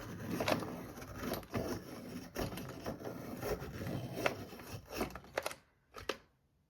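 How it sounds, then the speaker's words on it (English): A pencil being sharpened in a sharpener, close and fairly loud, giving a run of irregular grinding and scraping bursts that stop abruptly near the end with a couple of final clicks. "Sharpener noise."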